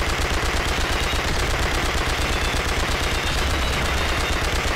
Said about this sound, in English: You just like pull the trigger and they all just die one by one.